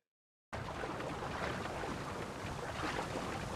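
A raft glides across water in a video game, a broad steady rush of wind and water noise that starts abruptly after a brief silence and continues evenly without any voices.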